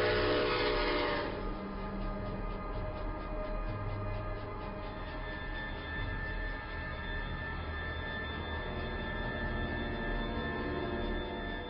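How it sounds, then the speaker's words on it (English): A train rumbles and roars past close by, a loud horn-like tone ringing over the steady rattle of the wheels throughout. "the rumbling and roaring of the night train"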